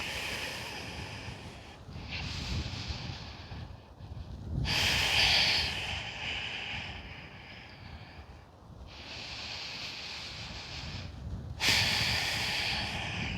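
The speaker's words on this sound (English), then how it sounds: "Inhaling. Exhaling." Deep yoga breaths during a legs and hips session, slow alternating inhales and exhales heard close to the microphone, several full cycles of breathy airflow with brief pauses between and no talking.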